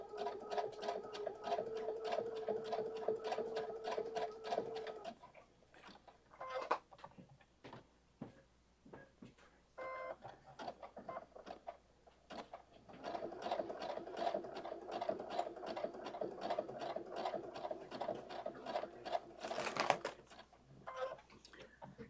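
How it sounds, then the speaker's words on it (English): A sewing machine stitching coiled rope into a rope bowl runs in steady rapid bursts of needle clatter, stopping for a few seconds midway before starting again, close and alone. "if you're getting some skip stitching when you're sewing on these rope bowls"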